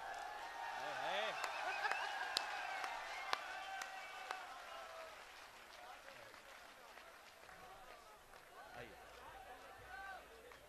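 A crowd at a Hindi poetry gathering applauds with scattered claps and murmurs, fading gradually as a voice speaks over the noise.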